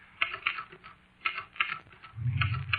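A typewriter clacks in bursts of quick keystrokes within an old 1947 radio drama, close and crisp, with a low rumbling swell rising near the end.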